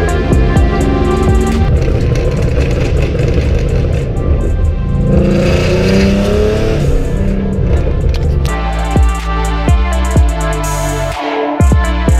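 Ford Mustang exhaust revving loud and close, engine notes climbing and falling through several throttle blips, with a sharp cut near the end before it revs again.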